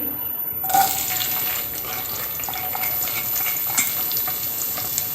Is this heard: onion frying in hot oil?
yes